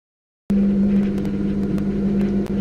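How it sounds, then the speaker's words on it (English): A car engine in a racing sim video game cuts in suddenly and holds a steady, loud droning hum with a constant pitch for a couple of seconds. "Here we are in a car in our sim"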